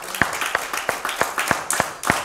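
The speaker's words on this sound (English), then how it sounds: "Give the Lord a hand clap this morning." A church congregation at a Sunday service claps for the Lord in a steady rhythm, about one sharp hand clap every third of a second, fairly close and loud, with faint voices underneath.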